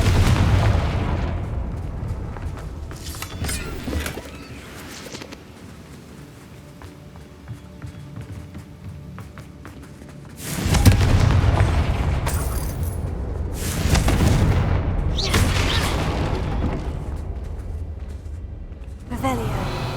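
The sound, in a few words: Confringo fire-blast spell explosions in the video game Hogwarts Legacy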